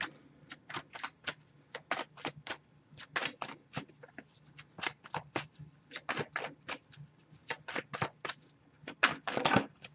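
Cards are shuffled continuously, with rapid crisp riffling taps and flicks in irregular bursts, close and fairly quiet, with no talking.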